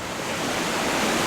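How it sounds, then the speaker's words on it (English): Ocean waves breaking along a rocky coastline make a dense, steady roar of surf that swells slightly louder over a moment, close and continuous with no voices. "I'm just trying to catch the waves as they break."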